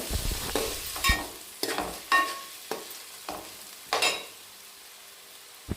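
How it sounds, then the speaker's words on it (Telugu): A spoon stirs bay leaves into coriander rice in a pan, giving a series of distinct scraping clinks and rustles at irregular intervals over a faint sizzle, close by with no talking. "రెండు బిర్యానీ ఆకులు కూడా వేసుకొని కలుపుకోవాలి"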